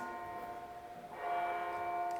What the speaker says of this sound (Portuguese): Famoso momento dos sinos.